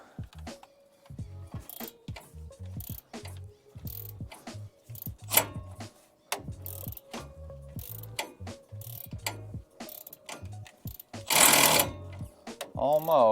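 A 10 mm flex-head ratchet spins a stud during control arm work on a 2004–2008 Ford F-150. It gives close, rapid bursts of clicking with short pauses and occasional metallic clunks between them.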